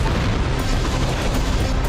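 Thermobaric bomb explosions in an attack on Gaza, heard as a continuous heavy low rumble with dense booming, steady and loud throughout with no distinct separate blasts.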